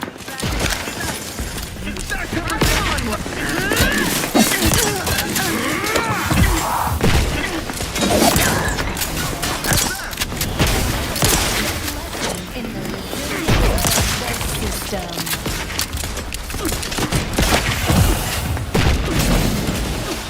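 Continuous game combat from The Outer Worlds 2 brings dense, heavy gunfire and booming impacts. Loud thuds and bursts run steadily throughout, with voices mixed in.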